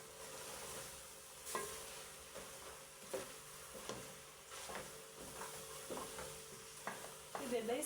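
Diced carrots and minced meat cook in a pan with no spices, a quiet steady sizzle broken by scattered scraping stirs and light clinks of a utensil, fairly faint and without talk.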